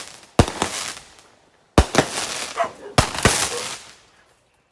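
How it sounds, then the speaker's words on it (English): Fireworks going off nearby, three sharp explosive bangs with crackling tails spaced a second or so apart, loud and close. "Fireworks gone wrong."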